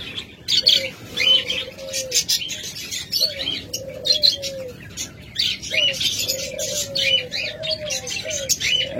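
Caged pet lovebirds, budgerigars or cockatiels for sale chirp close by in quick bursts of high tweets, mixed with short repeated whistled call notes throughout, with no voices.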